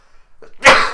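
One sharp sneeze bursts out close to the microphone after a brief quick intake of breath, loud and abrupt, on an indoor podcast set.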